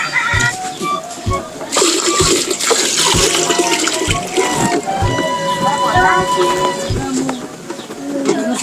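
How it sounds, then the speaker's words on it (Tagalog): Fast-flowing, clear water at Tinambak makes a steady broadband rush, with a soft rhythmic thumping recurring about once a second beneath it, and people speaking over it throughout. "Bilis ng tubig yan."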